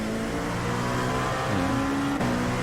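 A race car engine in a video game roars steadily close by at Sebring, its pitch rising and shifting as it speeds past, with a brief sharp change near the end.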